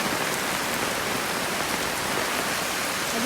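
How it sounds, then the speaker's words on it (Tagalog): Heavy rain pours down in a dense, unbroken hiss that stays loud and even throughout, with no voices. "Grabe ang lakas ng ulan!"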